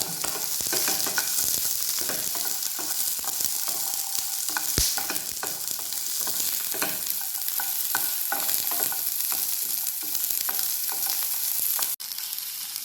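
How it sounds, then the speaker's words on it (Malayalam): Chopped onion, garlic and dried red chillies roasting in a pan, a steady close sizzle with frequent scraping stirs and small clicks of the utensil, continuous throughout and without speech. "ഈ സവാള ചെറുതായിട്ട് അരിഞ്ഞതും വെളുത്തുള്ളിയും വറ്റൽമുളകും കൂടെ ഒന്ന് റോസ്റ്റ് ചെയ്തെടുക്കാം"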